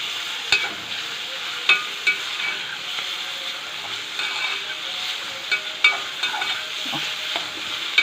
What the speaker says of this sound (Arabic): نقلب البصله كده لما تتشمع بالماده الدهنيه بالزيت